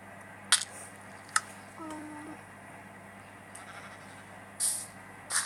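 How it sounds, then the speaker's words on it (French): Short, faint bleats of a sheep in a survival video game, scattered over a quiet background hum, with a few brief sharp clicks and bursts of game noise between them. "Ah, un mouton, je vais le garder précisément pour que ça puisse reproduire."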